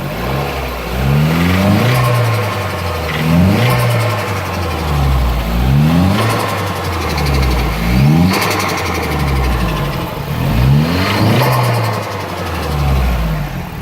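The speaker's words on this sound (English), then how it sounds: "we'll get some mad turbo noises for you" Turbocharged car engine revved repeatedly up close, loud rising and falling bursts roughly every two seconds over a steady idle, with whooshing turbo spool and flutter between revs.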